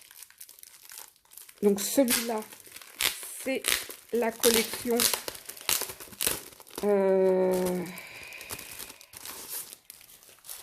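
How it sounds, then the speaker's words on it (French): Plastic packaging wrappers crinkle and rustle in bursts between someone talking, with a louder, longer crackle as the wrapping is handled near the end. "Excusez-moi pour le bruit, j'ai pas pensé à retirer les emballages avant."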